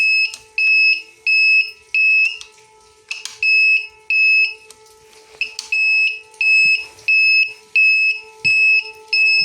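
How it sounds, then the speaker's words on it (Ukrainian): A small electronic buzzer fitted to a Bajaj Boxer motorcycle beeps with the ignition on, in short, regular bursts, shrill and piercing, with brief gaps between each pulse and a faint hum underneath. "Ось такий зумер маленький"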